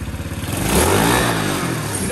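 A Honda C102 motorcycle engine revs up and holds a rough, uneven idle-to-mid rev close by, held back from wide-open throttle by a throttle cable fault, running steadily for about two seconds with no talk over it.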